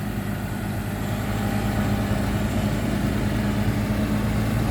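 A tractor engine pushes mud with a steady low, rumbling drone and constant throb at even loudness, close by, with no talk.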